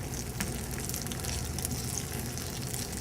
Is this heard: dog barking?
no